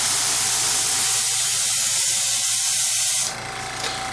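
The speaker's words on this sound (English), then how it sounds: "I'm going to spray some paint on a blank piece of paper here to make sure it's working okay" An airbrush sprays red paint onto a blank sheet of paper in a steady, close, loud hiss lasting about three seconds before cutting off to a softer background hiss.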